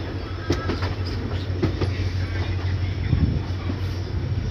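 A train rolls over the diamond crossing at Bareilly Junction with a continuous heavy rumble and scattered clattering wheel clicks, steady and fairly close throughout.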